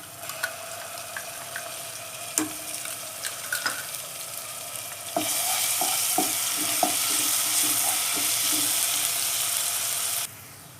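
Light-brown onions fry in a pan as garlic ginger paste is added, with scattered clicks and scrapes at first, then a sudden steady loud sizzle that holds for several seconds before cutting out.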